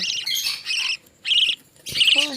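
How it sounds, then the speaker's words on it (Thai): Budgerigars in a nest, a parent bird with three chicks, give loud, close, harsh squawking calls in three or four bursts separated by short pauses. "อันนี้คือพ่อนกนะคะ แล้วก็ลูกนก สามตัวอยู่ในรัง"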